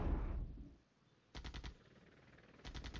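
Artillery firing in the wargame Flashpoint Campaign Red Storm, heard as two short bursts of rapid, evenly spaced shots after a low rumble fades, loud against a quiet background.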